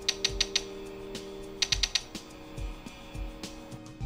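Mechanical key switches on a 3D-printed Star Trek Kzinti cosplay prop click in quick bursts of three or four sharp, close taps, followed by softer mechanical clacks and a faint electronic hum.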